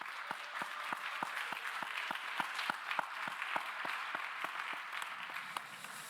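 A church congregation at a Sunday young-adults worship service breaks into steady applause of welcome, with many hands clapping in a fairly even rhythm from start to finish at a moderate level.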